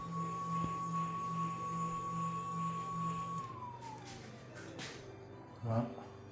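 A Motobécane M10 moped with a new engine runs in first gear, holding a steady buzzing whine that then drops smoothly in pitch and fades, followed by a few brief knocks.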